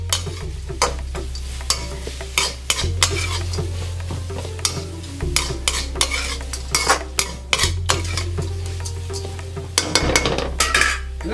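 Masala spiced with turmeric is stirred in a pan for Mysore masala dosa, with steady scraping and clinking of a spoon against metal over a soft sizzle, repeated strokes close up and no talking.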